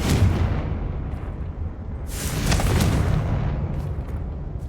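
Spell blast from the Confringo fire curse in Hogwarts Legacy on PS5, a fiery burst that swells into a loud, roaring whoosh amid rumbling low game ambience, with no voices.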